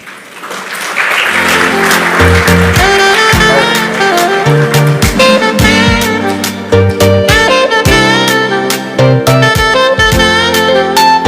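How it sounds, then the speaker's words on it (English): A crowd applauds steadily for several seconds while music plays at the same time. "let's give another warm round of applause"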